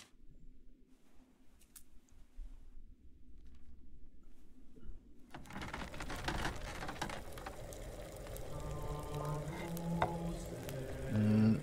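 A brew bubbling in a cauldron in Kingdom Come: Deliverance, quiet at first, then a steady seething, crackling boil rises and continues close and moderately loud, with no talk.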